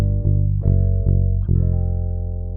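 Sustained chords on a keyboard-like instrument, a 12-bar blues turnaround with tritone substitutions that changes chord about every half second, played alone and fairly loud with no talking.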